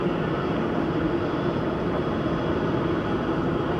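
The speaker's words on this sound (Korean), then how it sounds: "이 동네에 비행기가 너무 많이 다니는 거죠." Steady, loud drone of an airplane passing overhead while out walking a dog in a neighborhood with frequent air traffic, a continuous broadband roar holding level throughout with no voices.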